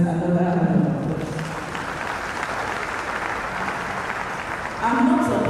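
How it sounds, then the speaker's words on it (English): An audience applauds a lecturer at a higher-education administration event, with steady, dense clapping filling most of the clip before fading as a voice returns. "I think the lecturer deserves another round of applause."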